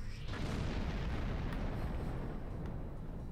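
Starship plasma dual cannons firing in the space combat game Star Trek Online, a dense rumbling roar of booming blasts that sustains loudly throughout, with faint crackles on top.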